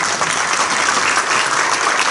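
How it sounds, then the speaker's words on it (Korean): A room full of people at a church denomination committee meeting claps steadily, a dense even burst of applause throughout with no talking. "그냥 박수로 받아주시면 좋겠습니다."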